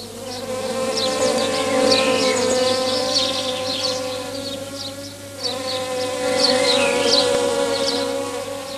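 A bee buzzing steadily around a flower, a close, continuous insect drone with a sustained tone and small fluctuations in loudness and pitch throughout, heard alone without talk.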